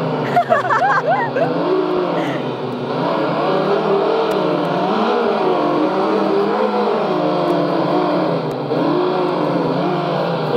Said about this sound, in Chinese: 我要超车了哦。